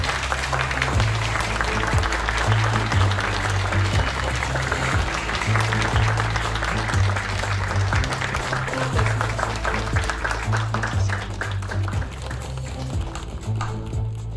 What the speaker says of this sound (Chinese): 让我们以最热烈的掌声欢迎